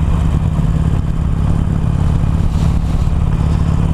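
A Harley-Davidson Iron 883 Sportster rumbles along at a steady cruise, a loud, close, continuous low engine drone with a throbbing exhaust beat and no talk.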